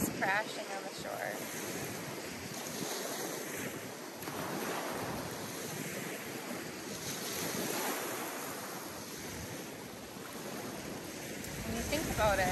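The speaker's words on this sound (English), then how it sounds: "to the waves crashing on the shore." Ocean waves crash on a beach shore in the morning, a steady washing surf that swells and recedes in slow cycles, mixed with wind buffeting the microphone, heard alone without voices.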